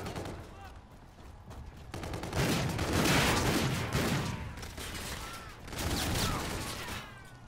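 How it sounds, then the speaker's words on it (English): Rapid automatic shotgun fire in the multiplayer game Call of Duty Infinite Warfare, dense bursts of gunfire with other battle noise, loud and continuous across the clip. "I'm using a full auto shotgun right now"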